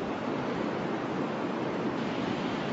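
Sea waves at the seaside wash in a constant, dense hiss of surf, even and unbroken with no voices.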